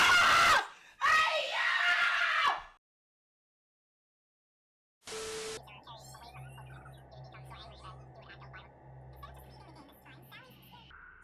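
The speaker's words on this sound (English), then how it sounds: "Why is she screaming?" A woman screams twice in quick bursts, loud and close. Silence follows, then a quieter stretch of faint clatter and rustling noises.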